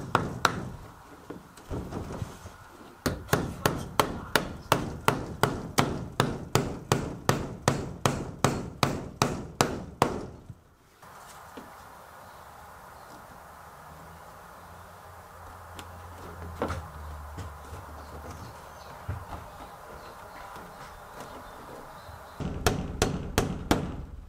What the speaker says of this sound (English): I'm just going to be nailing these right through the plastic with paneling nails.